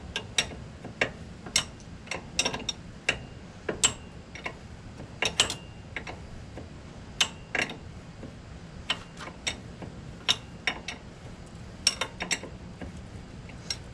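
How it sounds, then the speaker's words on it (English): A torque wrench clicking while tightening a front strut on a 2015 Ford Expedition, sharp metallic ticks scattered irregularly across the span, some in quick clusters, close but fairly quiet over a low background hum, with no talking. "then I'll put a torque wrench on it"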